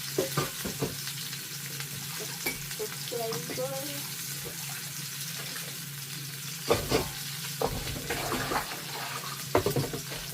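Vegetables frying in a pan, with a steady soft sizzle under clinks and scrapes of stirring and occasional clatters, moderately close, along with some faint speech.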